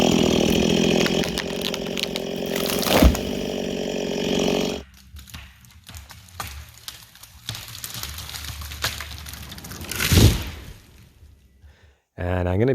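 A chainsaw cuts through tree trunks no more than 12 inches across, the engine roaring loud and close, then dropping to idle and revving again, with a voice talking over the quieter part.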